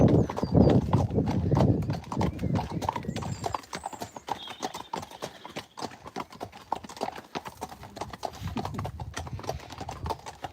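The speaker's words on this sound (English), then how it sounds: "So I'll just let you enjoy this last part of the ride back up to the farm." Friesian horses' hooves clip-clopping steadily on the ride back up to a farm, a close rhythmic patter lasting throughout, with a voice speaking over it near the start and end.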